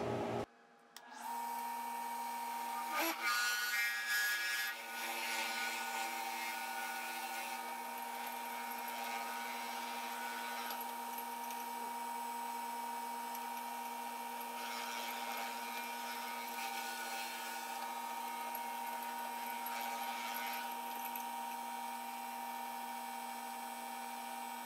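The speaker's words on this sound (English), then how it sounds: "So we'll get this thing drilled out" A drill bores out an Alumilite resin pen blank, starting with a brief clatter and then settling into a steady, high, whining hum that runs continuously with slight variations in tone and no talking.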